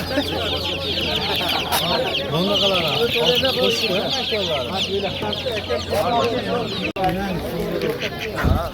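A dense flock of twenty-five-day-old chicks chirps nonstop at a busy poultry market in Namangan, Uzbekistan, shrill peeps layered close and loud, with clucking fowl nearby and someone speaking briefly over the din.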